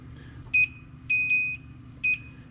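Several short electronic beeps sound at intervals, a kitchen timer going off over a low background hum.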